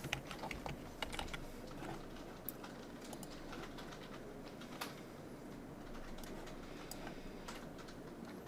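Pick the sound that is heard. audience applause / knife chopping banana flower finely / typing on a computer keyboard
typing on a computer keyboard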